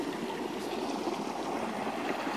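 River water from Mount Kenya flows steadily past a riverside fetching spot in Kenya, a continuous close rushing and gurgling wash with no pauses and no voices.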